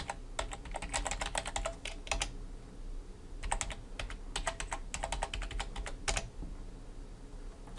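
Password being typed on a computer keyboard during a git push, heard as bursts of rapid, close key clicks separated by short pauses, with no talking.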